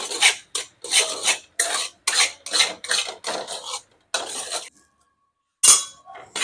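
A thickening paneer mixture being stirred in a pan with a metal spoon: close, rhythmic scraping strokes in quick bursts, then a pause and a final clink, with no talking.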